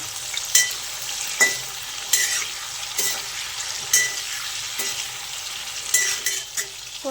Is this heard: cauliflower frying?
yes